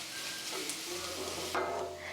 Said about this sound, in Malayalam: സവാളയും ചേർത്തിട്ട് നന്നായിട്ട് ഇനി നമുക്കൊന്ന് വഴറ്റി കൊടുക്കാം